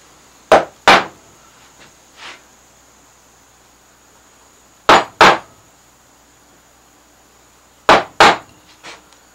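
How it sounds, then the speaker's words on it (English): Chisel carving strapwork in wood, sharp mallet-struck taps in pairs and small clusters separated by pauses, close and crisp over a faint background hum. "Could use a wider chisel now."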